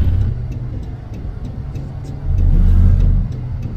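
A Chrysler Town & Country minivan, about ten years old and overheating, drives off a highway. Its engine gives a continuous low rumble that swells into a louder rev partway through, then settles back.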